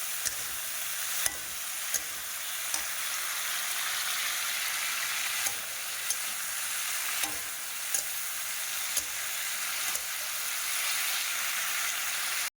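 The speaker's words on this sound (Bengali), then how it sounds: "আমি বটবটি এবং আলু দিয়ে তরকারি করতে ফ্রাই করবো" Flat beans and potatoes fry in hot oil for a curry, a steady broad sizzle filling the whole stretch with occasional sharp clinks of a stirring utensil against the pan.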